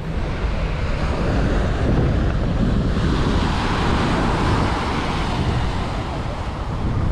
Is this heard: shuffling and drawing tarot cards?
no